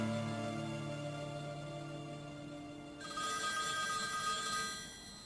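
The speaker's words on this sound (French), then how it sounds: "Mon téléphone sonne." A telephone rings in a dubbed French drama episode, a steady electronic ringtone that shifts to a brighter, higher pattern partway through, fairly close and with no talk over it.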